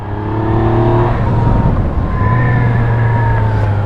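A 2017 Yamaha MT-09 motorcycle engine accelerating hard, loud and close, its tone climbing through the revs with a brief dip before pulling again.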